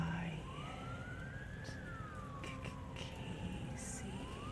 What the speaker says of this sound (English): I could hear the siren from the ambulance in the distance